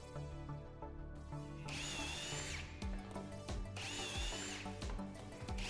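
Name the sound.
drilling shelf pin holes into cabinet side with jig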